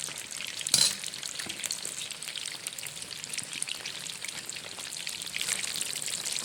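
Raw fish pieces fry in hot oil with a continuous bright crackling sizzle, steady and close, with one brief louder pop near the start.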